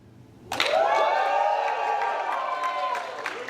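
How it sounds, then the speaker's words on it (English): A crowd erupts into loud sustained cheering and applause at a Charlotte team name reveal press conference, starting abruptly and holding strong for several seconds, with whoops rising above the clapping. "And if you will all give me your best Charlotte cheer right now"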